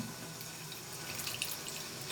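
Water poured into a pot of sarson ka saag, a steady, continuous splashing trickle that stays close and moderately loud without any talk.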